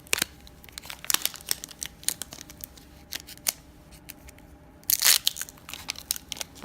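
A Pokémon Evolutions booster pack being torn open: sharp, crinkly foil rips and crumpling in quick bursts, close by, with a louder tearing rush near the end and no talking.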